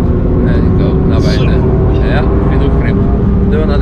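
A Toyota Yaris GR accelerating hard on the Nordschleife, its engine a loud steady drone heard from inside the car while someone talks over it throughout.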